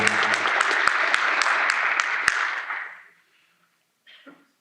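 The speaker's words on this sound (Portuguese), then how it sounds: "vou pedir uma salva de palmas ao senhor Aldo" Audience applause at a geosciences entrepreneurship and innovation panel event, a dense burst of clapping with a few sharp louder claps that fades out after about three seconds, followed by a brief faint sound near the end.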